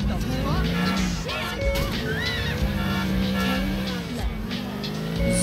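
Car driving in Grand Theft Auto IV, with an engine drone, a tire squeal and crash-like thuds under a busy mix of music and voices throughout.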